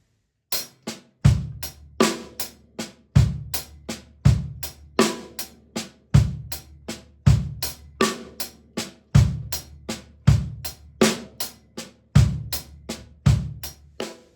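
Drum kit linear 3/5 groove with quiet ghosted snare notes and loud snare accents on beats 2 and 4, hi-hat strokes filling a steady repeating pattern, close and clear with no voices.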